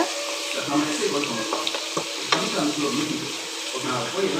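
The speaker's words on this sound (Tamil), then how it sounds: "பூண்டு எல்லாம் போட்டு நல்லா வதக்கணும். வதங்கி எடுத்துக்கணும்." Garlic sautéing in a pan for a sweet ribbonfish dish, a steady, moderately loud sizzle and crackle with faint stirring clinks, no speech.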